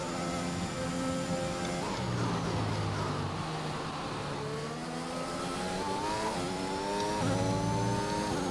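Harmonic whine of a Formula 1 engine in the F1 2021 racing game at Bahrain, steady and loud throughout, with the pitch stepping up through gear changes and several shifts.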